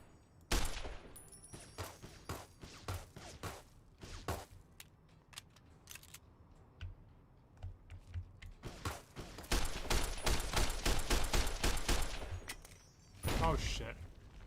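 Gunfire in Fallout New Vegas at Boulder City: loud, sharp shots in scattered bursts, with a dense rapid volley late on and a final cluster, over a low game background and occasional talk.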